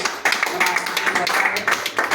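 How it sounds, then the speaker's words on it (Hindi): An audience breaks into a round of applause for a senior colleague, with dense, continuous hand claps that fill a small room and swell in short bursts, fairly close and loud. "हमारे सीनियर उमेश बाबू हैं, उनके लिए एक ताली दे दिए"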